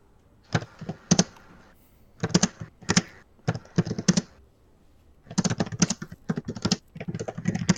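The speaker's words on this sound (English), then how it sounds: "She's very quick at typing." Rapid clicking of keys on a computer keyboard in quick bursts separated by short pauses, close by and fairly crisp.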